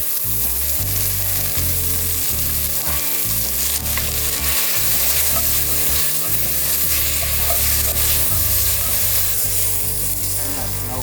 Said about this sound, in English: So now we start frying it up.